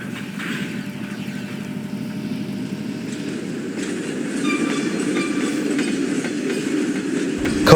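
A train rumbles steadily along the rails with a low, continuous clatter and faint metallic squeals, growing slightly louder toward the end.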